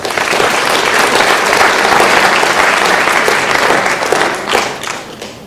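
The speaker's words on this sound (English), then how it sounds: "Let's give everybody a round of applause" Sustained loud applause from an audience at a school spring sports awards ceremony, honoring coaches and athletes, steady dense clapping filling the room before tapering slightly near the end.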